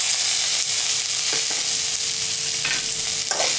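Tomatoes frying in a pan with dal, tamarind and grated coconut for a Tamil tomato-dal chutney, giving a steady close sizzle with a few soft stirring scrapes and no talking.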